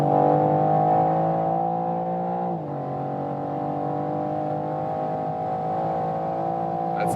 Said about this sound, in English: and I floor it down